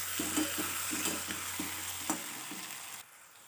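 Steady oily sizzling of tomatoes frying in a spiced oil tempering for pithla (gram flour curry), with a few soft scraping stirs, loud and close, easing off abruptly near the end.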